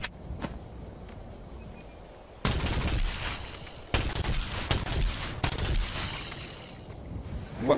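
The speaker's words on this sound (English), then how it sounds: "This is a little itty bitty gun" Small handgun firing in a VR game, three or four loud cracks spaced about a second apart, each with a ringing tail, after a quiet stretch of faint clicks and handling.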